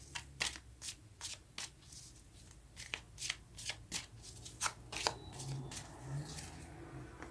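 Tarot cards are shuffled by hand in quick riffling bursts with short pauses between, crisp close papery flutters at a fairly low level.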